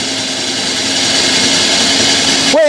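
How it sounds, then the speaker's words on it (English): A drill bit bores through a wooden 2x6 board with a loud, steady, strained whine, grinding close by for the whole stretch before a sudden change at the very end. "I've never seen have to drill through wood this difficult"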